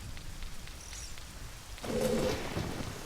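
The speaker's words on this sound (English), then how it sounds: "Oh, raining?" Rain falls in the Zelda: Ocarina of Time video game, a faint steady hiss that swells louder partway through, with a soft chime-like tone near the start.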